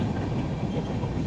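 Train running on rails during a trip to Rajasthan, heard as a close, continuous rolling rumble with faint clickety rhythm from inside the moving carriage.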